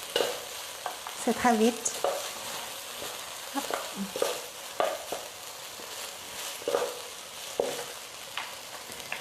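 Tofu and chicken stir-fried with Thai basil sizzle steadily in a hot pan, with repeated scraping strokes of the spatula through the whole stretch and a few brief words spoken over it.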